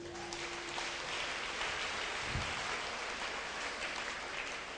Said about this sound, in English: Let's give Jesus a clap for this.